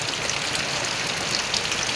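Heavy monsoon rain pours down in a dense, steady hiss with no pauses or voices.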